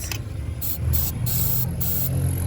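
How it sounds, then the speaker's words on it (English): Contact cleaner hisses from an aerosol can onto an electrical connector of a 2006 Mercedes ML350, several short bursts of spray in close succession over a low background hum, with no talking. "The reason why I like this contact cleaner is they dry up fast and they leave no moisture."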